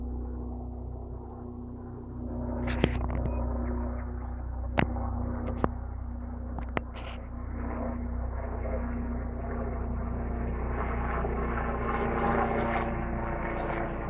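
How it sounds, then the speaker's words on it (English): A steady low turbine drone of a Westpac Rescue aeromedical retrieval helicopter overhead, constant throughout, with a few sharp clicks and faint rustling near the recorder. "aeromedical retrieval helicopter"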